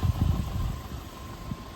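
A 2.0 FSI Audi A3 engine idles smoothly on new mounts, a low steady rumble with soft pulsing throb and a faint constant whine, nearby and alone.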